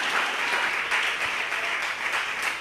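A church congregation applauds steadily and loudly, a dense wash of clapping with slight swells that runs without a break.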